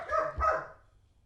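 Two quick, high-pitched yips from puppies sound close by and fade into quiet.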